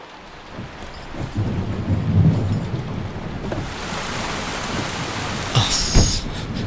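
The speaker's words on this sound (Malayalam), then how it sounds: "എന്തൊരു മഴ" Heavy rain pouring steadily in a dense, close wash, with low rumbles of thunder rolling underneath and the downpour swelling louder toward the end.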